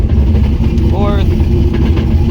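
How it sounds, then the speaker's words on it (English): A noisy car differential whines while the car drives in fourth gear after a 6-to-5 speed gearbox conversion, a steady loud engine drone under a brief rising gear whine. "That diff is so noisy."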